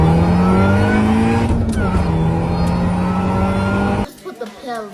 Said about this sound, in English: Plus you get that supercharger soundtrack.